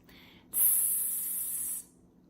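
A voice imitates an exploding T sound: a brief tongue click followed by one sharp, sustained hiss lasting just over a second, then silence.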